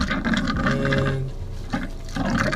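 Water trickling from a homemade outdoor shower on a 1984 Ford Shasta vintage RV, fed by the onboard pump, with a thin, steady splashing flow and some low pump hum nearby, no talk.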